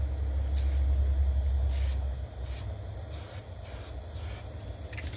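Aerosol spray can laying light coats of paint on disassembled Kawasaki Vulcan motorcycle parts, a series of short hissing bursts at close range over a low background rumble.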